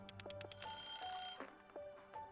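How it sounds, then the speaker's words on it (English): A loud ringing alarm in the video game A Space for the Unbound, with repeated bright bell-like pulses and a dense burst of clanging rings, close and alone with no talk. "Not without shutting off that loud ringing noise."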